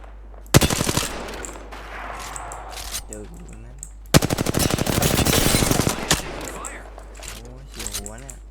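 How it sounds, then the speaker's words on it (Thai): Rapid automatic gunfire in the video game Apex Legends, two loud sustained bursts of rattling shots with brief pauses, mixed with game effects and some talk. "ยิงรัวๆครับ"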